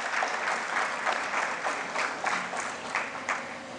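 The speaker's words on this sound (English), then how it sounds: "a thunderous round of applause for Dr. D.V. Deshpande." At a medical expo in Goa, an audience breaks into applause for a doctor, with dense clapping that pulses in uneven waves and tapers slightly toward the end. The clapping is clear and close, with no speech.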